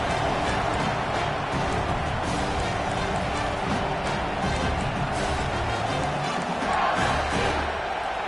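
A football stadium crowd roars continuously and loudly behind its defense on a big third down, a dense wall of cheering and shouting with no break.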